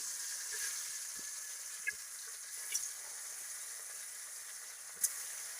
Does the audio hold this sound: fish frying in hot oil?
yes